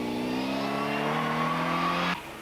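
A hot Mini rally car at the 1992 Repco Mountain Rally revs hard, its engine note climbing steadily up close before cutting off sharply near the end.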